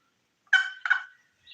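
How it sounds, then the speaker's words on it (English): A wild turkey gobbles in two quick rattling bursts at moderate distance, with a short gap between them and quiet before and after. "He gobbled again. Did you hear him?"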